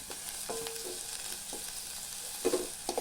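Vegetables and bean seeds with a pinch of salt sizzle steadily in a pan while being sautéed for ragi soup, with a few sharp spatula scrapes and clinks over the constant hiss.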